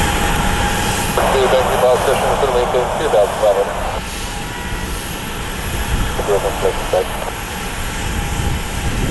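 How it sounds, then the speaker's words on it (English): Southwest jet airliner engines roar steadily at Columbus airport, a continuous broadband rumble heard from a distance, with people talking over it in two bursts. "Southwest Flight 4771 heading out."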